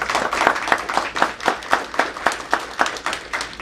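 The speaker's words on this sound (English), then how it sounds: "let's clap it" A church congregation claps in a fairly even rhythm, with several hands striking together in steady, moderately loud pulses at about three per second and no talking.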